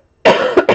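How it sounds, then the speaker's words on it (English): A single harsh cough from a person with asthma, followed quickly by two shorter ones, close and loud, with silence before. "I go into coughing fits."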